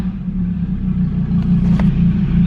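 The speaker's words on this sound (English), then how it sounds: "And when I rev it, it just barely moves up." A Gen 5 Dodge Viper engine idling with a deep, loud, steady rumble that swells slightly as it is revved, a close and continuous low drone with no talking.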